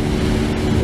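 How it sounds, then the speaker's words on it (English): A steady, loud parallel-twin motorcycle engine drone with a deep rumbling intake roar, unbroken and close to the microphone. "now that you can hear the intake over the exhaust"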